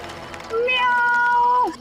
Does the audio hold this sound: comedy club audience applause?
no